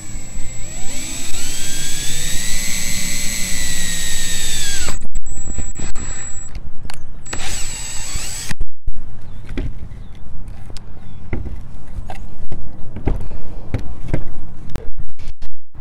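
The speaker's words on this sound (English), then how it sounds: "Once you finish drilling all of your holes on the sides" A power drill whines and revs while bored through a metal rain gutter for a DIY planter, with a long steady run followed by short bursts and clattering handling noises at close range.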